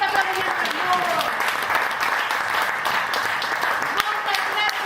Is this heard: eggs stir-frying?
no